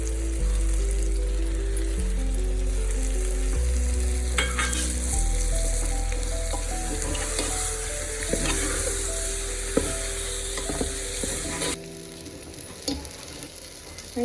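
Ground masala and dried shrimp sizzle steadily in a hot pan for stuffed eggplant, a continuous close frying hiss with occasional stirring scrapes and a brief break in the texture near the end.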